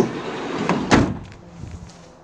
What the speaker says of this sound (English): Easy access through the side loading door.